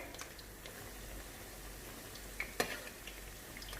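Pakoras frying in a pan of hot oil, a faint steady sizzle with a couple of small clinks of a utensil against the pan partway through.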